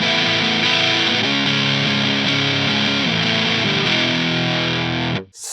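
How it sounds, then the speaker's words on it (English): A loud, heavily distorted electric guitar plays the chugging riff of a song, thick sustained chords ringing steadily through delay and flanger effects before cutting off abruptly at the end. "we kick on some distortion and we play this"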